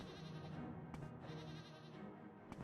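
A friendly goat in the video game Project Cyrodiil gives a faint, drawn-out bleat beneath a constant dense background of game ambience.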